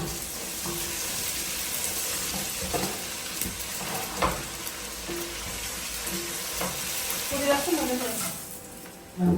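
Paratha frying in oil in a pan, a steady close hiss of sizzling with light scraping and clinks of a utensil throughout, ending with a brief louder knock.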